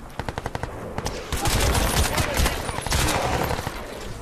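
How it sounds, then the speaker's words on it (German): Rapid machine gun fire in the video game Crysis 2, a loud, dense stream of shots that runs almost the whole time with no pause. "Und hier können wir erstmal mit dem MG den ersten ausschalten"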